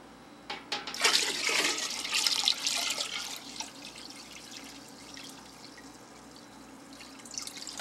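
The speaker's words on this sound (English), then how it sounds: "And I'm going to pour that into the container." Juice for homemade wine poured into a fermentation container, a close gushing splash that surges early and then settles into a quieter trickle and drip, with no voices.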